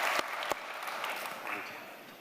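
Audience applause welcomes Richard Webb at a Latin American economics forum, a moderately distant, steady patter of clapping with a couple of sharp, louder claps near the start that fades slightly toward the end.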